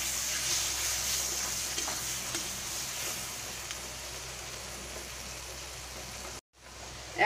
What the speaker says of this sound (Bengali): এবারে আমি এর মধ্যে টমেটো কুচি দিয়ে দেব। টমেটো কুচি দিয়ে ভালো করে মিশিয়ে নেব।